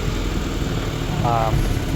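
Toyota Matrix engine running rough after a cylinder head resurfacing, with the exhaust not yet fitted, a close, steady, uneven idle with a low throbbing pulse and faint talk over it.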